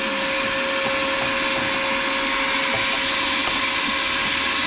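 A vacuum cleaner runs steadily and loudly, a constant whining roar with faint ticks and rattles of blade-sharpening debris being sucked up, with no pauses.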